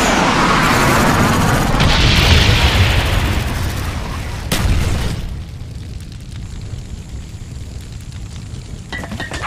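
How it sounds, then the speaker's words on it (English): Napalm strike in Call of Duty: Black Ops, a loud, roaring explosive blast swelling for several seconds, with a second boom near the middle before it fades into a quieter rumble and crackle. "Friendly napalm strike on the way."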